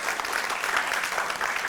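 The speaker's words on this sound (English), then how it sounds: "so give him a big round of applause." Audience at a film screening and director talk giving a round of applause, a loud, dense, continuous clatter of many clapping hands heard close and alone.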